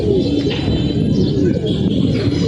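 Pigeons at a rooftop loft on a drizzly, overcast afternoon with wet tin roofing give soft low coos beneath someone talking, against a loud, steady background hum.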